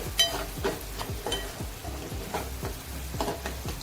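Homemade masala sautéing in a pan with oil, a close steady sizzle and crackle broken by repeated soft scraping strokes of a spoon stirring at an even rhythm.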